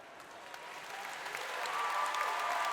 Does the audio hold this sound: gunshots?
no